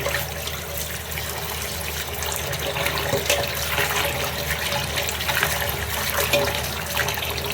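Carp fish washed in water, with a continuous splashing, running-water wash close by, moderately loud and steady, no voices.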